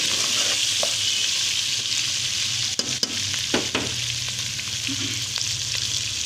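Chicken fries with ginger and garlic in a kadai, giving a steady, loud hiss and sizzle with occasional clinks and scrapes from stirring.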